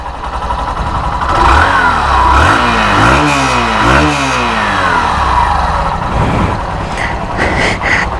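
Hero Super Splendor Xtec motorcycle engine being started and revved, rising and falling exhaust note up close, several quick throttle blips before settling back toward idle.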